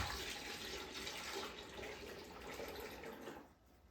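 Cold milk pours steadily into a pot for homemade fresh mozzarella, a continuous soft splashing rush that tapers off at the end, with no talking.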